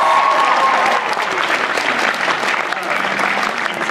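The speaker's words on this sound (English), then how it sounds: "one final round of applause for the guests of Anime Detour 2015" Audience applause fills a convention panel room at Anime Detour 2015, a dense, steady wash of clapping from a large crowd that holds loud and continuous throughout.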